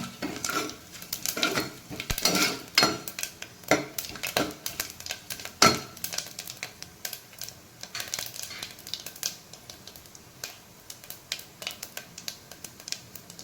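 Spices, cinnamon, bay leaf and fennel being stirred in a pan for tomato rice, with repeated metallic scrapes and clinks of a spoon against the pan, loud at first then lighter and more scattered, over a faint sizzle.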